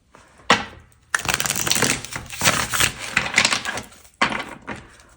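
Tarot cards are shuffled up close in several crisp, rustling bursts separated by short pauses, with no voices.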